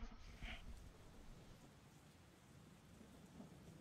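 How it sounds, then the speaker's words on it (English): Steady rain falls at night in the game Persona 4 Golden with a soft hiss and a low rumble underneath, quiet and continuous with no voices. "The rain falls into the night."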